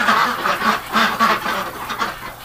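Several ducks quack and honk in quick, uneven bursts outdoors, close and fairly loud, with no talk over them.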